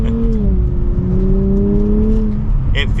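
A 2024 Nissan Z Nismo drives on city roads, its engine and exhaust droning loudly and steadily from inside the cabin, pitch sliding slightly as revs change, with brief higher clicks near the end.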